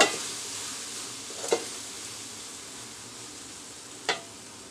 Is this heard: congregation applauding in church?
no